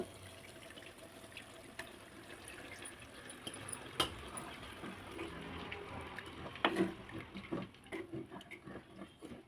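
Tamarind water pours and trickles softly into a pot, with a few light clinks and splashes close by, fairly quiet throughout.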